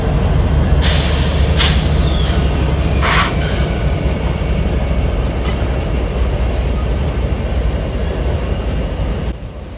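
A CSX freight train rolls past loudly on the Columbus subdivision below the Whittier Street overpass in central Ohio, a steady heavy rumble of rail cars with brief high wheel squeals near the start.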